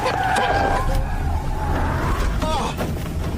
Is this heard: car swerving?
yes